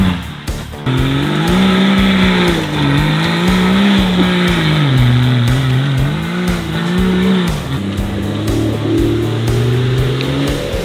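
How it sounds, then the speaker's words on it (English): An M57-swapped LN106 truck with a locking diff does a burnout, its engine roaring steadily at high revs with rising and falling pitch and continuous loud tire squeal, close and sustained throughout. "Burnout."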